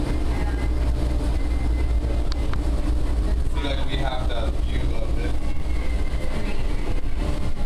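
A steady low rumble of a tram rolling on rails between Bellagio and Monte Carlo in Las Vegas fills the whole stretch while a person talks over it.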